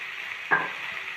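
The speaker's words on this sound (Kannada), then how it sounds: "ಇದನ್ನು ಚೆನ್ನಾಗಿ ಸ್ವಲ್ಪ ಫ್ರೈ ಮಾಡ್ಕೊಳ್ಳೋಣ ಈಗ ಇದರಲ್ಲಿ" Tomatoes and vegetables frying in oil for fried rice, giving a steady close sizzle with one brief louder burst partway through as they are stirred.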